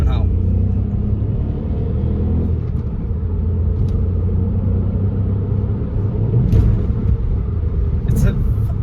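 A Ford Puma's engine drones steadily from inside the cabin on the drive home, a continuous low rumble of road and motor noise with a few faint clicks near the end and no obvious revving.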